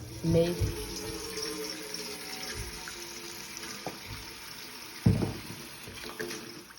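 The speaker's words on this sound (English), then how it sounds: "I accomplished this by soaking it in a bowl with dish soap, then rinsing in a separate bowl." Wool is rinsed by hand in a bowl of water, with soft sloshing and splashing, a couple of louder splashy bursts, and a faint steady background hiss.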